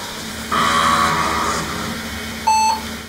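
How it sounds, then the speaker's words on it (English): IBM PC booting into DOS, with a low hum and drive whir, a brief tonal burst near the start, and a short, clear electronic startup beep near the end. "That's the sound of an IBM PC booting into DOS."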